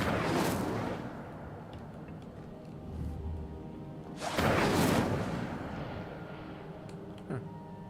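Incendio fire spell cast in Hogwarts Legacy: two whooshing, fiery bursts several seconds apart, the second fuller and longer, over a low crackling game background.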